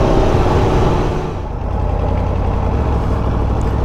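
A 2022 Aprilia Tuono V4 1100 Factory motorcycle sits idling before its first ride, giving a loud, steady, close-up engine rumble that dips briefly and then holds.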